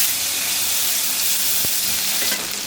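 Hot mustard oil in a heated wok sizzling loudly and steadily, a close continuous frying hiss with a sharp crackle near the end.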